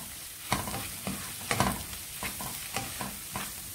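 Garam masala paste sizzles in a pan for chicken Mughlai as a spoon scrapes and stirs it in a steady rhythm of repeated strokes.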